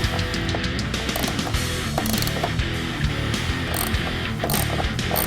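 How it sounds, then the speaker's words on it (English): A hand ratchet clicks rapidly and repeatedly while 10mm and 8mm bolts are backed out of a Ford F-150 trim panel, in close, crisp bursts with short pauses between them. "we're going to remove the 7 bolts out of this trim panel here"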